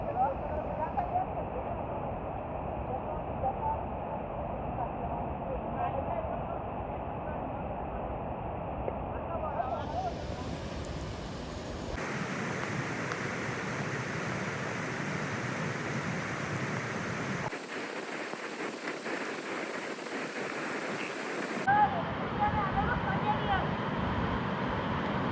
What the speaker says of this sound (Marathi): ज्याच्यासाठी आपण एवढी सगळी ट्रेक करून इथे आलोय, तो सुभेदार धबधबा